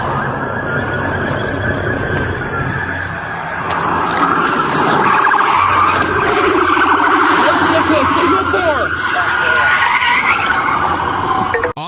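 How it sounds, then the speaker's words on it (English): A fleeing suspect's car swerves abruptly during a police chase, crashes into a highway median and skids, a loud sustained scraping and tire-screech roar with engine noise throughout. "This abrupt swerve caused his car to crash into the median and skid."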